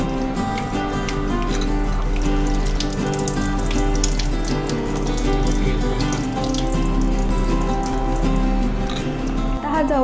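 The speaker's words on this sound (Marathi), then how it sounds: "मी स्वच्छ 2 पाण्यामधून हा ओला जवळा धुवून घेणार आहे" Fresh small shrimp (ola javla, for a Malvani dish) rinsed in clean water in a sink, with running, splashing water heard steadily throughout beneath continuous background music.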